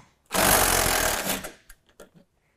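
A ratchet with an 8 mm socket works a headlight housing bolt free, starting with a loud, fast continuous clicking run lasting about a second. A few separate short clicks follow.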